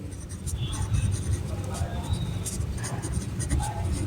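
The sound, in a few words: writing with pen on paper while solving math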